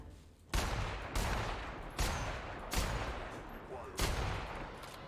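Enemy gunfire in The Outer Worlds: five loud, evenly spaced shots ring out about every second, each trailing into a short echoing decay over a low ambient game rumble.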